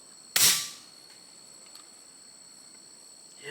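A single sharp crack from an Umarex Notos G2 air rifle fired outdoors at long range, loud and close, fading quickly into a quiet background with a faint high whine and a soft later rustle.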